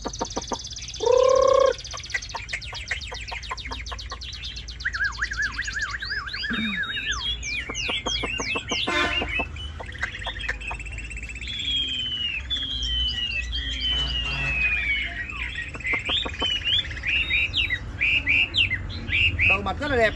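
A caged hwamei songbird sings close and clear, pouring out varied whistled phrases and rapid trills with a loud burst early on and only brief pauses.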